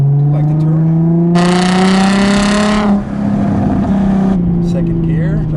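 A 2004 Nissan 350Z accelerating hard in second gear, its engine droning loud and close with a steadily rising pitch, then a brief dip and continued pull, while a voice talks over it.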